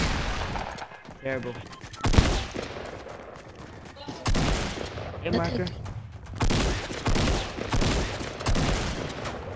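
Loud bursts of video-game gunfire from a player firing at opponents, several clusters of rapid shots separated by short gaps, with a person talking between and over the shooting.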